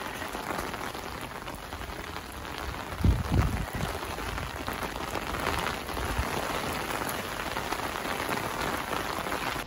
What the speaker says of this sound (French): Bon, ça va, la pluie, elle n'a pas duré longtemps.